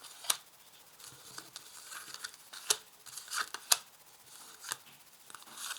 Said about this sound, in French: je place mes cartes de cette manière et je vais tirer 5 cartes